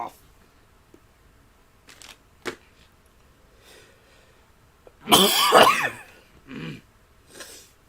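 A person gives one loud, harsh cough burst near the middle, with a few quieter throat-clearing sounds and small clicks scattered around it in an otherwise quiet space.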